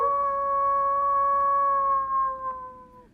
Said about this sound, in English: With a loud howl,